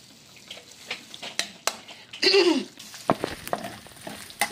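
Oil sizzles and crackles in a pan while pansit bato cooks, a steady frying hiss broken by sharp pops and a louder surge midway, with stirring clatter close by.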